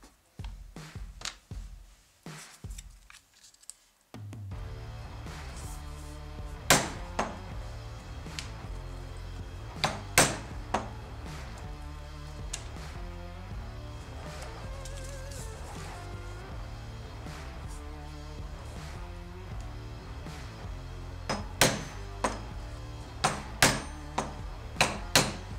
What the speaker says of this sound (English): Using an awl, we're going to transfer all the hole marks onto these pieces before hammering them out.